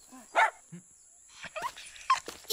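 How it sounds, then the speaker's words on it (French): Dog named Buluc barking in a few sharp, separated yips and barks, with short gaps between them and no one talking. "Itzel, il faut que tu me prêtes ton chien."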